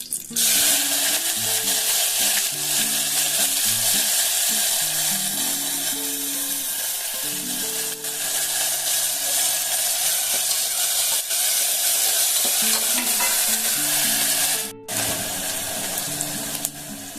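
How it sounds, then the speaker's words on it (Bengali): Chopped onions with bay leaves frying in oil in a pan: a loud, steady, close sizzle with no pause, with no voices over it. "দেখুন পেঁয়াজগুলো খুব সুন্দর ভাজা হয়ে গেছে"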